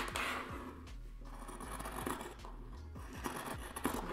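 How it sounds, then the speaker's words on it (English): Scissors snip through fabric while cutting out rounded bunny-ear shapes for a beanie, giving a close, quiet series of repeated crisp snips and light scrapes with no voices. "And then just cut that off."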